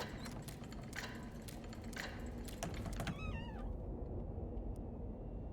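A cat in the video game Shadows Over Loathing gives a single rising-and-falling meow partway through, preceded by clicky tapping over a steady dense game-music background.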